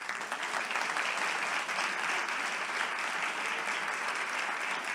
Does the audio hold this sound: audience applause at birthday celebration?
yes